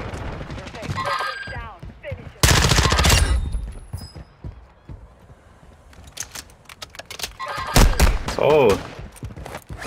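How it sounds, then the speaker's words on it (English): Shooter video game gunfire comes in loud bursts of rapid shots between quieter gaps, mixed with clicky keyboard-like tapping and a player's voice talking over the action. "Shooting me through walls."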